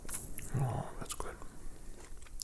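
Someone bites into and chews tangerines close to the microphone, soft wet crunches and mouth sounds in a quiet setting.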